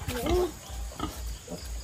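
A pig's grunts and snorts sound close by, in a few short bursts, mixed with low rumbling and a bit of nearby voice.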